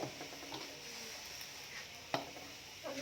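Vegetables stir-fried with oyster sauce and MSG give off a faint, steady sizzle, with soft stirring scrapes and one sharp utensil clack against the pan.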